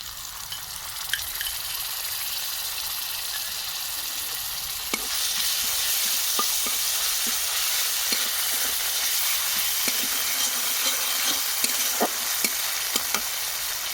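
Ground ginger and green chillies fry in a pan, with steady sizzling that swells louder partway through, while a spatula stirs and scrapes with repeated sharp clicks, close up and with no talk.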